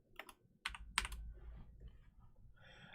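Keys clack on a computer keyboard in a few quick clusters of taps, soft and close, with short pauses between bursts.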